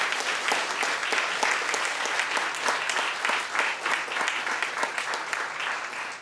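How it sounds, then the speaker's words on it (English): An audience at a joint Lunar New Year community celebration gives a sustained round of applause, dense clapping that holds steady and then tapers slightly near the end. "can we just give them a big round of applause?"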